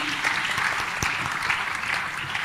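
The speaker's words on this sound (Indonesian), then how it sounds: "Boleh tepuk tangannya sekali lagi" Audience applause at an awards talk show, a short, even spell of many hands clapping at moderate volume, continuous from start to finish with no speech over it.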